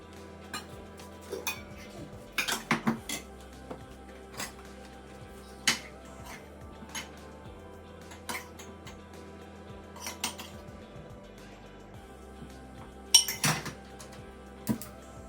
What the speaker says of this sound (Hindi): बर्तन खाली कर देती हूँ